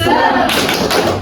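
Children clap the tepuk semangat cheer pattern in unison, a quick run of sharp, close hand claps and taps that continues steadily for about a second.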